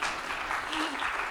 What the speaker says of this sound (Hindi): लेकिन आप ताली बजा सकते हैं